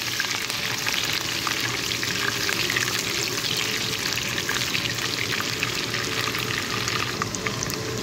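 Garlic and onions sauté in a pan for a Filipino noodle dish, an even, dense sizzle and crackle held steady throughout with light stirring and no talk.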